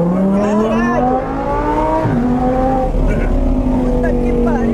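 A car engine, still somewhat cold, revs steadily with rising and falling tones, loud and close throughout, while people talk over it.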